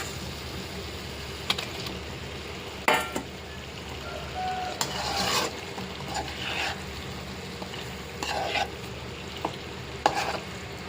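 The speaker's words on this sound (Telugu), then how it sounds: "బాగా తిప్పుకున్నాం, లైట్గా తిప్పుకొని" Egg and drumstick curry stirred in a frying pan, with a spoon scraping and clinking against the pan in irregular strokes over a soft continuous sizzle, close up and with no talking.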